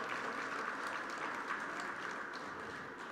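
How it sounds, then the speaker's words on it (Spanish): A large crowd at an outdoor gastronomic festival in Putú claps steadily for about three seconds, a dense, even wash of hands that fades slightly toward the end with no voices over it. "Un fuerte aplauso para ella y muchas gracias."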